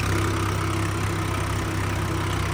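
A tractor engine under load drones steadily and continuously at a constant pitch, a low mechanical hum with no breaks and no voices.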